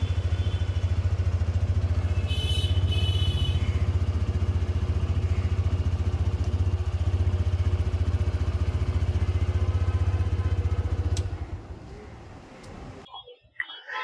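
A 2024 TVS Raider 125 with a 124.8 cc air-cooled single-cylinder fuel-injected four-stroke engine, idling with a steady low, close rumble for about eleven seconds before it cuts off and goes quiet.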